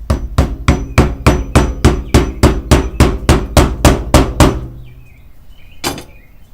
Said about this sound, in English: It's not the hammer I want to use